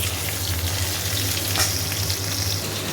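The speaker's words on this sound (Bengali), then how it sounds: "আলুগুলো একটু ভেজে নিচ্ছি, তারপরে দেবো হচ্ছে পটল" Potatoes and pointed gourd fry in an oiled pan with a loud, steady close-up sizzle and occasional stirring, over a constant low hum.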